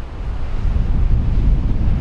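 Ocean surf rolling onto a beach far below a high lookout, a steady loud roar of breaking waves with gusting wind buffeting the microphone throughout.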